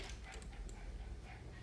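Several dogs bark and whimper in the background, faint and muffled, with short yips scattered through a steady low room noise.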